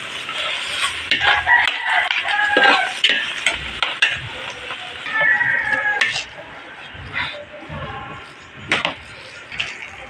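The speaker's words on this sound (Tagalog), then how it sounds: "lalagay na natin ang kanin at haluin" Cooked rice stirred in a sizzling pan for biko, with a loud close scraping and frying hiss and a rooster crowing in the background.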